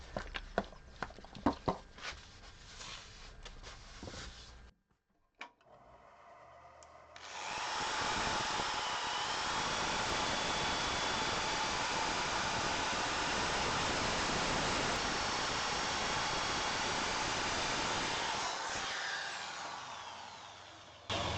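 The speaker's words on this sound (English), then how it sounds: "Now I am going to spin this while I'm buffing off the burnishing cream." A wood lathe spins a scorched-effect rimmed wooden platter while burnishing cream is buffed off, a steady broad whooshing drone that holds for about fourteen seconds after a few sharp knocks and a brief pause.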